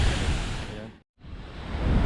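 Strong current of water falling from above at Lake Cebu's Seven Falls gives a loud, continuous rushing roar, broken by a brief dead-silent gap at the midpoint before resuming.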